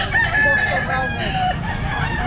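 A Boston Roundhead rooster crows at a busy pet market in a drawn-out call, with chickens clucking and voices murmuring in the background.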